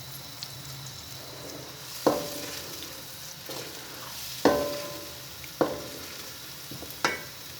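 Tomato, garlic and onion frying for a dhaba-style chana mash dal: a low continuous sizzle with four or five distinct spatula scrapes against the pan spaced a second or two apart.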